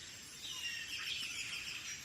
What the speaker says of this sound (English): a cacophony of birdsong slowly drowned out by the crackling flames